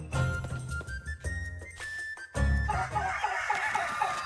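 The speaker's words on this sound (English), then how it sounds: "Careful with the hens now, you hear? I dare say they're still riled up after last night." Hens in the Little Goody Two Shoes video game cluck and a rooster crows over layered game music, the farmyard sounds growing busier and denser toward the end.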